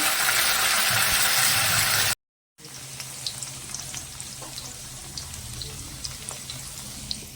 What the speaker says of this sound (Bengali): ওর মধ্যে ইয়ে সর্ষে ফোড়ন দেওয়া হচ্ছে